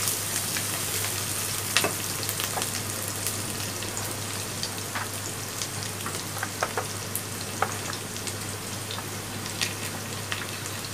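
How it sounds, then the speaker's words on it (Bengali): Onions frying in a pan and being stirred until golden, the first step of a chicken liver curry. A steady, close sizzle continues throughout, with scattered crackles and scraping from the stirring. "এখন যতক্ষণ পর্যন্ত পেঁয়াজটা গোল্ডেন কালার না হবে ততক্ষণ পর্যন্ত নাড়তে থাকতে হবে।"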